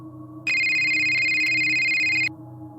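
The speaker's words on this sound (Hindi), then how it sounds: "इतने में मेरे फोन में एक कॉल आई।" A phone ringtone for an incoming call sounds, a bright steady electronic tone pattern that starts abruptly, rings for almost two seconds and cuts off, over a quiet low background hum.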